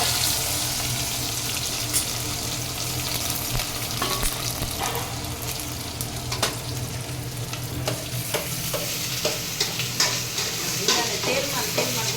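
Spices sizzle and crackle in hot oil, a steady loud frying hiss with scattered pops and a utensil stirring throughout.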